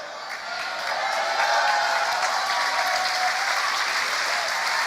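A church congregation applauds together, a dense, steady wash of clapping that swells after the first second and holds strongly to the end.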